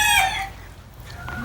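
A Chanticleer rooster gives a brief, loud crow, close by, that fades quickly into faint background noise.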